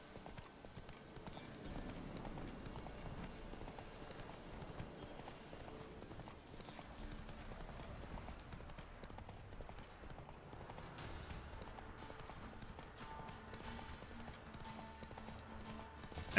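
Horse hooves drumming in a steady galloping rhythm in The Witcher 3 video game, quiet and continuous under faint background game sound for about sixteen seconds.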